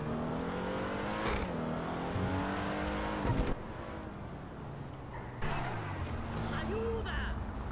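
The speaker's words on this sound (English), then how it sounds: "it does have a little bit of an Aston Martin sound with the engine" A sports car engine with a throaty Aston Martin-like tone revs and pulls through several gear changes, rising and falling under continuous talking from inside the car.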